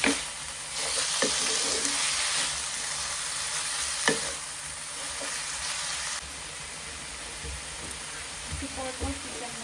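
Baby eels (angulas) dropped into hot garlic oil sizzle in a steady, close crackling hiss, with a few sharp utensil taps and clinks against the pan over the frying.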